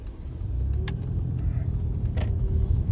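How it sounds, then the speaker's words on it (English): Steady rumble of passing cars on a nearby road, a continuous low wash of traffic with a couple of brief brighter rattles. "it could be that there's a lot of road noise"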